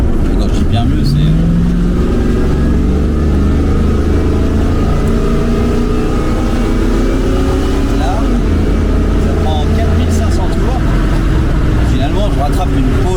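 A Pontiac Firebird is floored for a full-throttle kick-down while overtaking on the road, its engine droning loud and close and climbing in pitch, with someone talking over it.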